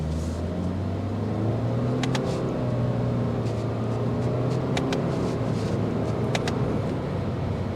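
A 2024 Subaru Impreza Sport accelerating on a test drive, its engine note rising steadily through the gears from inside the cabin over constant road noise, with a few faint clicks.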